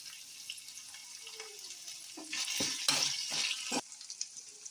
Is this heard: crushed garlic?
yes